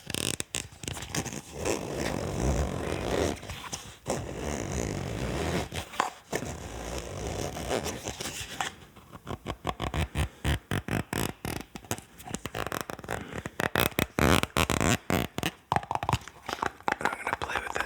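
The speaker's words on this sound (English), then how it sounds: "Next up, I have this just totally random plastic container." A random plastic container is handled close up for ASMR triggers, giving continuous crinkly scraping at first, then a run of rapid tapping and clicking bursts, loud and near with no talk over it.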